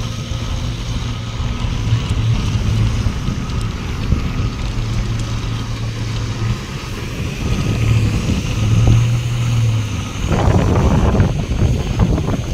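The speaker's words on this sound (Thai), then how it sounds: "ลมแรงหน่อยนะครับต้องขออภัยด้วย" Strong wind buffeting the microphone outdoors above a reservoir, a continuous rumbling roar with gusts that swell and rattle, loudest toward the end, with no talk.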